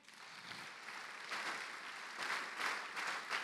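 A church congregation applauding, steady clapping that swells in a few waves, faint and somewhat distant, with no voices over it.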